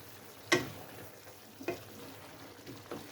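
Leeks and rice sauté in a pan with a faint, quiet sizzle, broken by a few short scraping clicks of stirring.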